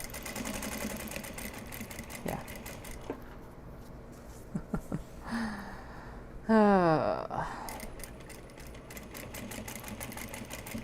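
A sewing machine does contrast top stitching on a fabric cat head pouch, with a rapid, steady mechanical whir that starts and stops in short runs, fairly quiet and close, alongside brief sounds of handling.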